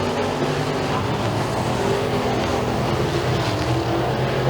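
Pure stock race cars roar around the oval at Thunder Mountain Speedway, a loud, steady, continuous engine drone with layered exhaust tones from several cars in close pursuit.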